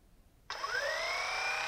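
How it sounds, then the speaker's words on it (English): A Theragun Elite massage gun switches on abruptly and runs with a steady high motor whine and buzz, close and moderately loud, with no talk over it. "Obviously it's shaking because the massage gun is shaking."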